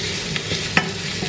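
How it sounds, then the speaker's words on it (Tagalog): Garlic and onion sautéing in a pan give a steady, close sizzle with soft stirring scrapes and a sharper clack near the middle. "sauté natin yung garlic, ahos, garlic po, sibuyas"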